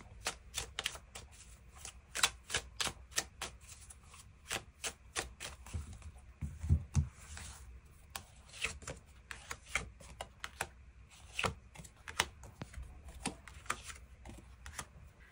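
Tarot cards being shuffled and drawn, crisp rapid riffles and taps coming in quick bursts and clusters, close and fairly quiet in a still room, with no talk.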